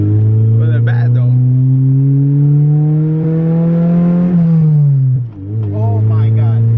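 A car fitted with a stage 4 competition clutch accelerates hard, its engine note climbing, then dips sharply at a gear change before rising again. Voices briefly sound over the loud, close engine.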